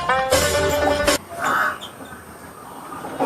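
One crow caw, short and harsh, comes through after a loud burst of voice or other sound in a residential outdoor setting, then fades into quiet background.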